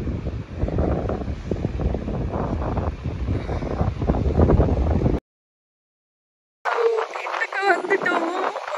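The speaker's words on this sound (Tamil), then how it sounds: "அடிக்கிற காத்துல அப்படி காத்தடிக்குது" Strong wind buffets the microphone on a beach at Cavendish, Prince Edward Island, a loud continuous roar with chatter underneath, then a sudden gap of silence before gusty rumbling resumes.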